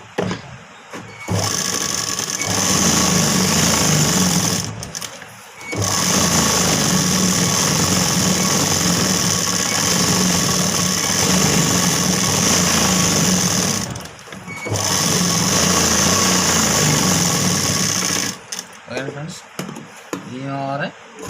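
Sewing machine stitching the lining of a sleeve, running in three long steady bursts of motor whir and rapid needle clatter, separated by brief pauses with small handling noises.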